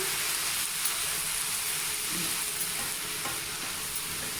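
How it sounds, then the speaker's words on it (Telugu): Fenugreek and amaranth leaves are stirred through hot oil in a pan, giving a steady broadband frying sizzle with soft scraping of the spoon, close and continuous with no voices. "ఇలా కంతా ఒకసారి ఆయిల్లో కలిపేసేయండి"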